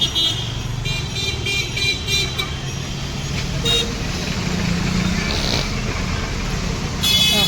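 Busy street traffic heard while crossing a road on foot, with cars and motorbikes passing close by and occasional short horn toots over a steady roadway rumble and faint background voices.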